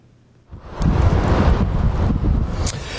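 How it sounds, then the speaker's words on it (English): Strong wind in cold, windy weather hits suddenly after a quiet start, becoming a loud, roaring gusty rush of buffeting air that stays heavy to the end. "We have live coverage of our cold, windy weather with NewsWatch 12's Jerry Howard tracking"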